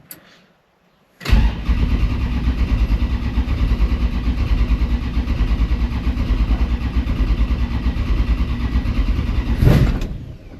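A 1964 Plymouth with a big block Mopar engine cranks briefly and fires up after a short silence, settling into a loud, close, lumpy idle for several seconds before revving slightly and cutting off.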